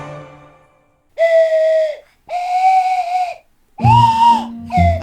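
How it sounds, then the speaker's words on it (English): A slide whistle plays several sustained notes, each sliding slightly in pitch, separated by brief pauses, loud and close. "Maybe it'll be a slide whistle cover."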